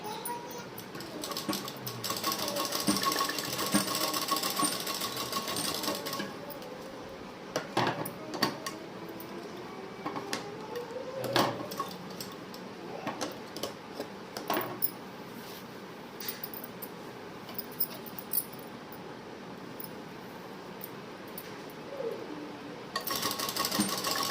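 A sewing machine stitches elastic onto a pair of pants while the elastic is pulled taut, giving a steady, fairly quiet mechanical whir that runs for long stretches with brief pauses and small clicks.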